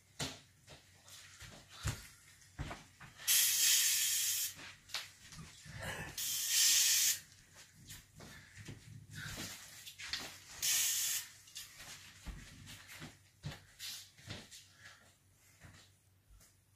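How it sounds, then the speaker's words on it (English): Several loud bursts of hissing spray from an aerosol can, each lasting about a second, separated by clicks and handling noises. "First, I need to spray it out."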